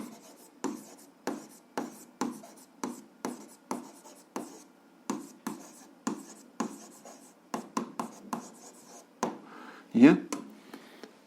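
A pen writes on paper while algebra exercises are worked out, giving a regular series of short scratching strokes near the microphone, with one sharper squeak toward the end.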